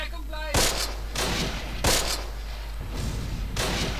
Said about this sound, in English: That must be German mortars, surely.